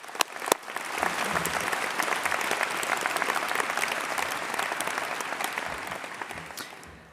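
Sustained audience applause at an ANZCA college ceremony oration as a speaker is welcomed, a dense steady clapping from a large hall that begins almost at once and fades slightly near the end.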